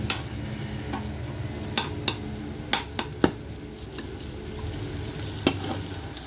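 Chopped onion sprinkled with salt sizzles steadily in hot olive oil in a pan, with a few sharp clinks of a utensil stirring against the pan scattered throughout.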